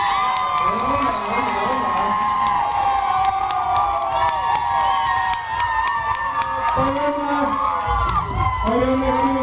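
The audience at a student dance competition cheers loudly and without a break, with whoops and excited shouts rising over the crowd noise and a voice running through the roar.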